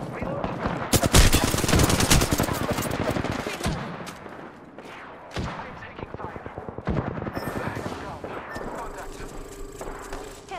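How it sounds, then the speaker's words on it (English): Rapid automatic gunfire in Apex Legends, loud dense bursts and volleys with scattered single shots through a firefight, some shots farther off, under occasional talk. "I am taking fire"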